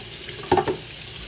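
Hot water runs briefly from a kitchen tap into a bowl, a short splashing burst of about a quarter second over quiet room background.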